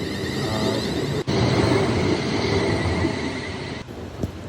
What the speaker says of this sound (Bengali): এই ট্রেনটা বেরিয়ে যাচ্ছে